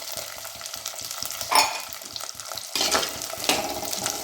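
Shallots and garlic sauté in a pan for a spicy gravy, a close, continuous sizzle broken by quick rhythmic scraping stirs and a few louder bursts of frying, with no voices.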